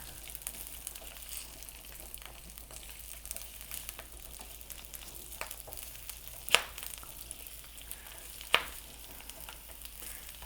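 Onion petals sautéing in hot oil for bhindi do pyaza, a steady soft sizzle with a couple of sharp clinks from stirring, close and without any voices.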